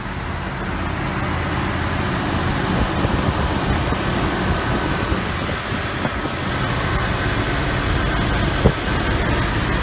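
A sedan engine with 270,000 miles idles at a steady low rumble for several seconds, even and continuous, with no ticking or knocking and one brief click near the end.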